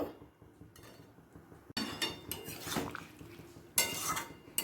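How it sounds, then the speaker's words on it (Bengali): Pots, ladle and utensils clink and scrape as potato and cauliflower chachchari with chopped coriander is moved into another pot, several close metallic knocks and clatters, louder toward the end. "এবার অন্য পাত্রে তুলে নেব"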